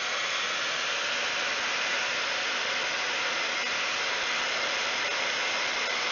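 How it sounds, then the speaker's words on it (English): A hair dryer heating a battery wrap blows with a steady, loud hiss that continues without a break. "depending on your hair dryer, it may take a little bit longer"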